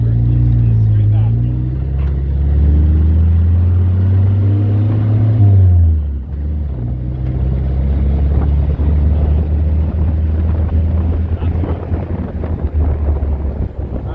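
A 1953 Willys CJ3 Jeep engine droning while driving, revving up, dropping at a gear change, then settling into a steady low rumble with wind buffeting the microphone and a voice talking over it.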